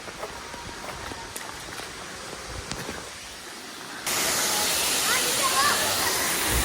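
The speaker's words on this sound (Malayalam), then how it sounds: "ഭയങ്കര വെള്ളച്ചാട്ടം എന്ന് പറഞ്ഞു കേട്ടത്" A waterfall on an outing to a wedding, heard first as a softer rushing background that suddenly swells into a loud, steady roar of falling water close at hand.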